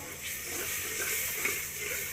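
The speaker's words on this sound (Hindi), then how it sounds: "अब हम इसके अंदर थोड़ा सा पानी ऐड करेंगे।" Water poured into sizzling masala frying for moong dal, giving a steady hiss of steam and bubbling that builds and holds, close and fairly loud.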